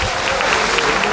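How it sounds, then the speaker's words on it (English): Audience applause fills a brief moment at a political party launch event, a dense, steady wash of many hands clapping at once, loud and close throughout. "A round of applause for all these interested groups."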